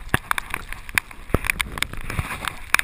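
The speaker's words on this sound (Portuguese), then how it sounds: "A chuva caindo." Rain falls during a boat trip on a spearfishing outing off Salvador, heard as scattered close drops and patters striking a surface over steady wind and water noise.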